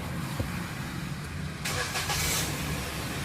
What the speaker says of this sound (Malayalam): ഓക്കെ, വണ്ടി സ്റ്റാർട്ടായിട്ടുണ്ട് കേട്ടോ.